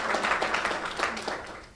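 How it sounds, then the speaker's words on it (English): An audience at a Brooklyn community engagement meeting briefly claps for the Second Ward National Alumni Foundation, a short, fairly faint burst of applause that tapers off quickly. "Give them a round of applause."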